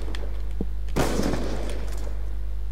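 A single sharp sniper rifle shot in Black Ops 2 cracks loudly and then decays, set against a steady low hum and a few fainter clicks.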